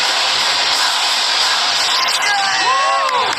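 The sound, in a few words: crowd cheering in video game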